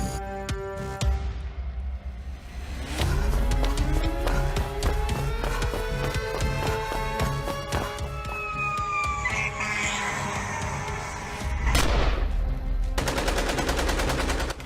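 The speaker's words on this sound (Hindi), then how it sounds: "आगे बढ़कर शदीद फायरिंग की।" Heavy gunfire in a dramatized film on airport security forces, rapid machine-gun bursts and single shots cracking over a wailing siren that rises and falls, loud and sustained with no talk.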